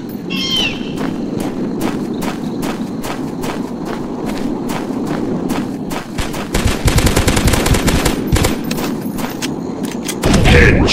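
Rapid gunfire in a dinosaur hunter video game, with bursts of automatic fire that grow denser and louder near the end. The shots are close and sharp, over a steady rumbling game background.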